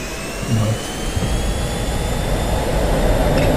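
A jet aircraft engine roars loud and steady just after takeoff in the DCS World combat flight game, a continuous broadband rush with high whining tones.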